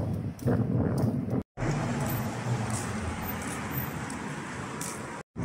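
Gusty wind rushing across the microphone, steady and fairly loud with brief cutouts, some distant traffic-like noise beneath.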